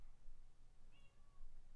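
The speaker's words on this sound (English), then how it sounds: "My cat is here to play." A single short meow from a cat in Minecraft, faint and brief over a low background rumble.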